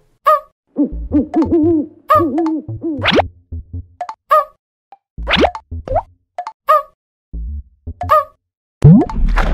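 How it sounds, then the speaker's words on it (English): A cartoonish owl hoot appears among playful plops and boings in a children's monster alphabet phonics nursery rhyme, with bright, bouncy sound effects in quick succession and no talk over them. "Owl."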